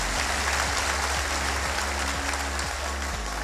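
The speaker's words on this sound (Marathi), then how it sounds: "आपण सर्व टाळ्या वाजवून करूया" An audience at a heart-health seminar claps to welcome the guests, with steady, dense applause that fills the room and holds evenly from start to finish.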